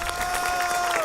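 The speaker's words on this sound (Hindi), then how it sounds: "जोरदार तालियां।" Brief burst of studio audience clapping and crowd noise at the Battleground fight club show, mixed under a sustained musical tone.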